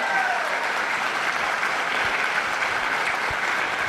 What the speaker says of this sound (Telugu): ఒకసారి గ్రాండ్గా క్లాప్స్ హృదయపూర్వకంగా